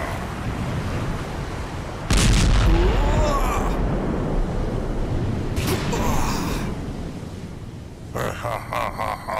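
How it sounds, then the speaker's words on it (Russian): An anime attack called the Great Ocean Cannon, from a One-Punch Man fight, lands as two heavy, rumbling blasts a few seconds apart. They cut through dense background noise, with dramatic voices around them. "Великая океаническая пушка!"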